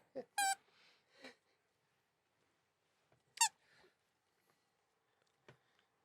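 A person makes high, sharp vocal squeaks, two brief piercing squeals separated by quiet pauses, close to the microphone, with faint breathy murmurs and small mouth sounds between them.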